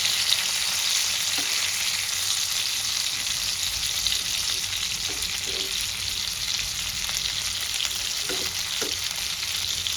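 Rohu fish fries in hot oil with a steady, loud sizzle throughout, broken now and then by faint soft stirring or utensil taps.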